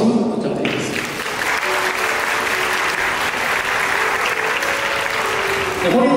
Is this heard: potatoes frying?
no